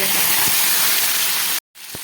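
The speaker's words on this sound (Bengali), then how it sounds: "তেলটা গরম হয়ে গেছে বা চিংড়ি মাছগুলো ভেজে" Prawns frying in hot oil, a loud, dense, steady sizzle close up that cuts out abruptly for a moment near the end and then resumes more quietly.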